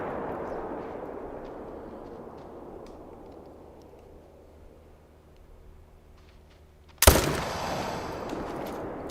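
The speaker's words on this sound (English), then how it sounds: "I'll just brain shoot you." A single loud rifle shot fired at a puma in theHunter: Call of the Wild, a sharp close crack that rolls into a long echoing tail after several seconds of quiet outdoor ambience.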